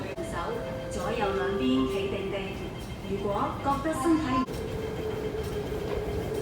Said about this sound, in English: Train just comes in.